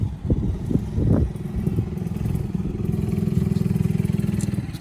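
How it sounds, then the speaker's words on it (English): A small motorcycle moped engine runs nearby at a steady, rapid putter after a few clattering knocks at the start, holding an even idle-like drone. "My neighbor, he's on his little motorcycle moped, keeping busy with his kids."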